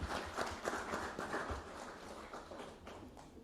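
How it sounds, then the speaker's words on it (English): A round of applause from an audience at a dairy value chain report launch, a dense patter of many hands clapping steadily and fairly close, easing slightly toward the end. "let's give him another round of applause"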